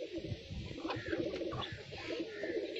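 Pigeons coo softly and repeatedly at close range, a low rolling murmur continuing throughout with no talk.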